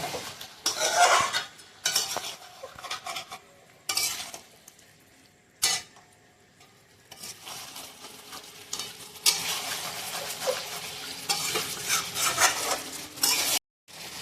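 Mutton being stirred and sautéed in a pot for a thin potato curry, the spoon scraping and clinking against metal over a steady close sizzle, with bursts of stirring and brief pauses.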